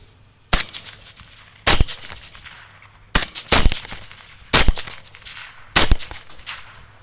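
Five loud, sharp gunshots fired at wild hogs held in a trap, spaced roughly a second or more apart, each with a brief ringing tail and no talk between them.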